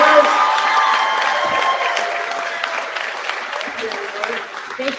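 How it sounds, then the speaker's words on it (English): A convention panel audience for The Walking Dead claps loudly with some cheering, the applause tapering slightly toward the end while a voice speaks over it. "let's get a big round of applause for them."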